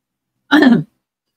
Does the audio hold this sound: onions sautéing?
no